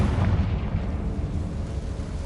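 A Confringo blasting spell detonates against a barricade in a Harry Potter video game, a loud, dense rumbling explosion with heavy low-end roar that sustains for a couple of seconds, close and without speech.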